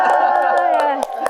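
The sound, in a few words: studio audience cheering and clapping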